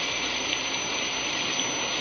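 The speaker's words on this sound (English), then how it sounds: "Yeah, I never did like rain." Steady rain and splashing water from a radio drama sound effect, a dense continuous hiss that stays level throughout with no voices over it.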